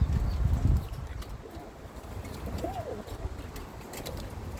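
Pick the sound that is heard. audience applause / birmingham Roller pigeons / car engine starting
birmingham Roller pigeons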